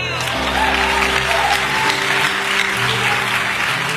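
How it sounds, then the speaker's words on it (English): An audience applauding in a church or public talk setting, dense steady clapping that fills the whole moment, loud and close, with a low hum underneath. "Don't clap for me, clap for him."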